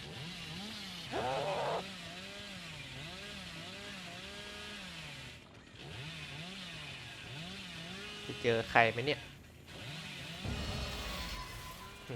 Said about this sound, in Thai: เลื่อยอย่างนานกว่าจะเจอคน ปั่นเครื่องไปขนาดนี้แล้ว